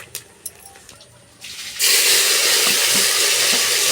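Curry leaves and dried chilies drop into hot oil, bursting into a loud, steady sizzle after a few faint clinks, continuing close and strong throughout.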